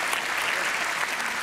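Audience applause at a church service, steady and dense for the whole moment, filling the room with continuous clapping and no voices over it.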